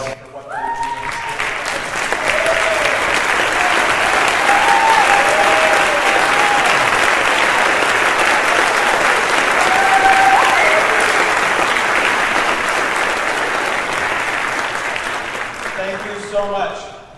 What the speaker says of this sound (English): Round of applause for what they're doing.